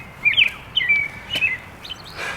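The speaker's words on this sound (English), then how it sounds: "Birds are happy." Birds chirp outdoors in several short, bright bursts of song over a quiet background, fairly close and clear, with no talking.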